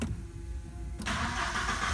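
Audi 100 C4 with a 2.0-litre AAD injected petrol engine running steadily, then revving up sharply about halfway through into a loud, sustained higher-pitched roar.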